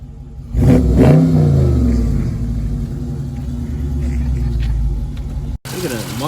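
A brand-new 2020 Dodge Charger 392 Hemi Scat Pack engine revs up with a deep rising roar, then settles into a heavy, steady rumble heard up close, cutting off sharply near the end.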